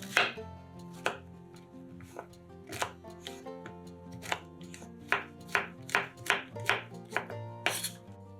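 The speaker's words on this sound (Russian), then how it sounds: "250 грамм шампиньонов нарезаем небольшими кубиками." A kitchen knife dices champignon mushrooms into small cubes on a board, giving a steady series of crisp, close chops with short pauses between strokes.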